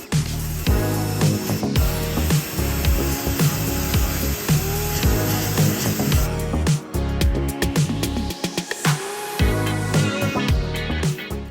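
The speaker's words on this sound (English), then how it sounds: "rinsing it off with my pressure washer" Pressure washer spraying and rinsing a car wheel and tyre, a loud continuous hiss with a humming motor that surges and cuts in short bursts.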